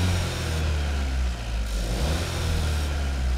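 A VW 1.5 TSI EVO petrol turbo engine fitted with a RAMAIR intake and PRORAM sport filter idles steadily, a close, continuous low rumble with no voices.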